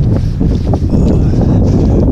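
Heavy wind buffeting a microphone, a constant low rumbling roar with no other clear sounds, loud and close throughout.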